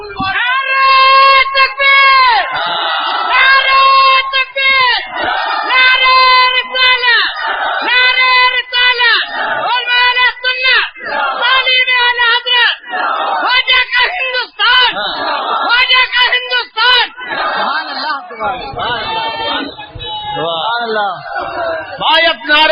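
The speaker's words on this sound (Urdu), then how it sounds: "اب نعرے موقوف کرو" A large crowd at a religious gathering chants slogans in loud rhythmic call-and-response bursts, voices surging together repeatedly for a long stretch, with a leader's voice calling out between them.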